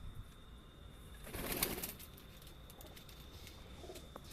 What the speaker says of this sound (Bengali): পায়রাগুলো কি সুন্দর বসে আছে দেখুন